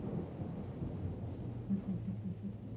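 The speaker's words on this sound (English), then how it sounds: "We never get thunderstorms in San Francisco." Low, distant thunder rumbles steadily during a rare San Francisco thunderstorm, a soft, continuous roll with no voices over it.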